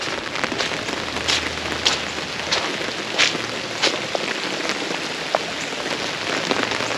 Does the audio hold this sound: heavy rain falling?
yes